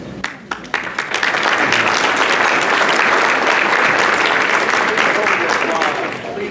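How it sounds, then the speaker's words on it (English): Audience applause breaks out at an award presentation, beginning with a few scattered claps and quickly swelling into loud, sustained clapping that fades slightly at the end. "Hold the applause."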